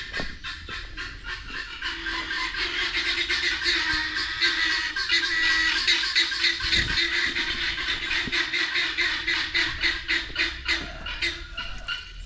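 A flock of racing pigeons kept by an owner in Africa, squawking and cooing loudly and close by in a steady, rhythmic chorus with no talk over it.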